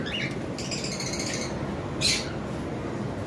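A pair of violet opaline lovebirds gives a short burst of chirps and a sharp squawk over steady aviary background noise, the calls moderately close and brief.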